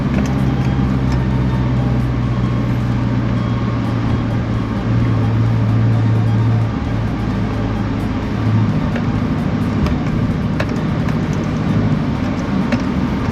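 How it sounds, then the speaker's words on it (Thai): A tuned 1.9 diesel pickup accelerates as turbo boost builds: a loud, steady low engine drone with a held tone that rises in pitch partway through, recorded from inside the cab, no talking. "พันหกเนี่ยผมเหยียบเห็นปะปุ๊บมันจะแป๊บหนึ่งแล้วก็จะมา พอสองพันปุ๊บบูทมันจะติดมับมาเลย"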